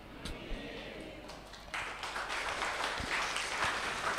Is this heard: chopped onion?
no